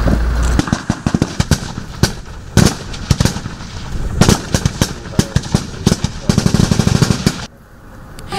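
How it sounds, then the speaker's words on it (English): Rapid bursts of gunfire from recruits' short- and long-range shooting demonstration at a Ugandan military passing-out event, loud cracks firing in quick volleys and single shots throughout, ending in a quieter rumble. "The recruits demonstrated to President Yoweri Kaguta Museveni skills in self-defense, short and long-range shooting, among others."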